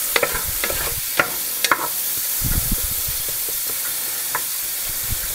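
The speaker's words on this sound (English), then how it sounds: "While we let the bacon cook, I'm going to get the soup started." Bacon fries in a pan, a steady close sizzle broken by sharp little pops and a few scraping knocks.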